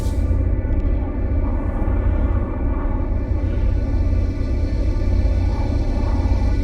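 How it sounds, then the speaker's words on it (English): A storm in the No Man's Sky game gives a steady, loud, low rumbling roar that holds throughout without a break. "Storms shouldn't last very long"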